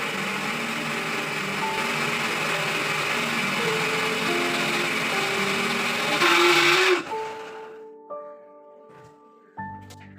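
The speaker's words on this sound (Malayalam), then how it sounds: "ഇപ്പോൾ തുടങ്ങിയതാണ് മിക്സിക്ക് അങ്ങനത്തെ ഒരു ഒച്ചയും വിളിയും കുറച്ച് കൂടുതലായി" Loud, harsh whirring of a kitchen mixer grinder making more noise than usual, running for several seconds, then abruptly stopping, leaving faint clinks and a brief electronic beep.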